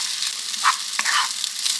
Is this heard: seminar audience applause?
no